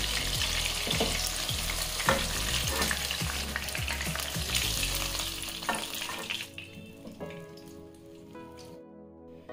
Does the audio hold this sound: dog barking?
no